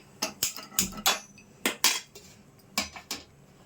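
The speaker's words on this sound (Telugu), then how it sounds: "ఒక గిన్నె పెట్టుకుందామండి" A metal cooking pot clanks onto a kitchen stove while bottle gourd upma is being prepared, giving a series of about eight sharp, close metallic knocks and clinks in uneven bursts with no talking.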